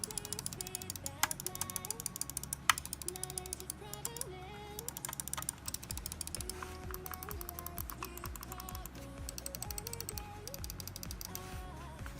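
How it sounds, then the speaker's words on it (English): A Logitech G502 Hero gaming mouse produces rapid, faint ratcheting clicks from its scroll wheel along with sharper button clicks, close up and quiet, with a soft underlying hum and no speech. "Infinite scroll wheel. We have a DPI button, we have the scroll wheel button. Goes smoothly. Scroll wheel again. Here are the clicks."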